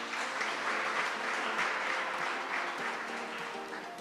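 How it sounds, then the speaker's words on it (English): Sustained applause from an audience at a morning news-show event in Barbados, a dense, even wash of clapping that holds steady throughout without speech. "I think you can give her a round of applause."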